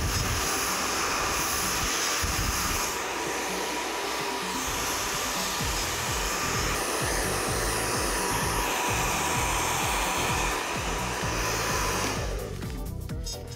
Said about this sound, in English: tip your head upside down to blow dry it